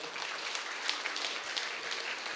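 An audience at a meditation gathering claps steadily in a dense, even wash of applause with no voices over it.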